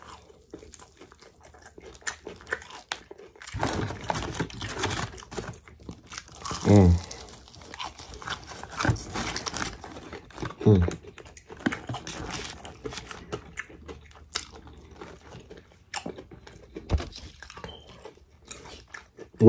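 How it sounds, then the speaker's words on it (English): Close crunchy bites and wet chewing on a Popeyes fried chicken thigh, several loud crackling bites followed by softer mastication and quiet lip sounds, with no talk over them. "I know y'all hear that crunch."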